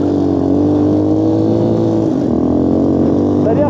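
Quad bike engine revving on a snow-covered road, a steady close-up drone that rises and falls in pitch, with a brief whine near the end.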